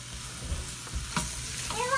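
A stick of butter melts in a pot for mushroom soup, sizzling and bubbling softly and steadily up close, with a brief clink or two of utensils.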